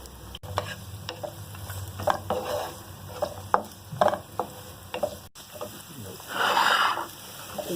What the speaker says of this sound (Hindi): अभी ये 2 मिनट बस ज़रा इसको हम पहले शैलो फ्राई करेंगे